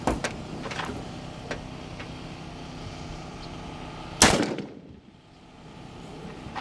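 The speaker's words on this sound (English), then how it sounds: "So now we're gonna bump it up to faster rifle caliber." A 6.5 Creedmoor rifle fired from a Sig Cross at a body armor target gives one sharp, loud outdoor report that rings briefly and then decays into quieter ambience.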